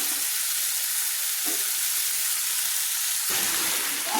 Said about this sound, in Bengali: আলুটা দিয়ে আমি ভালো করে কিন্তু একসঙ্গে মোচা আলু সব কিছু আমি কিন্তু কষিয়ে নিচ্ছি